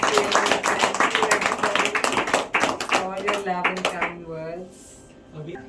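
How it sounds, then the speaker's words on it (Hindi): Guests clap together at a birthday celebration, a dense run of hand claps under talking voices that fades near the end, leaving speech over quieter room sound. "सब लोग ताली लगाते हैं"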